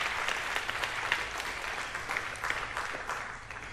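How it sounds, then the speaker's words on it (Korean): A church congregation applauds its robed choir at a Sunday service, steady dense clapping filling the room throughout with no voices on top. "우리 좀 격려의 박수를 하면서 좀 열심히 수고한 우리 성가대 위해서"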